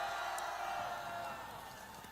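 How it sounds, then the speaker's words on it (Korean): A crowd at an outdoor political rally in Gwanghwamun cheers and shouts in a sustained, fairly distant roar that eases slightly over a couple of seconds. "우리 수가신앙 전스님과 법은스님, 보타스님께도 감사의 함성을 보내시기 바랍니다"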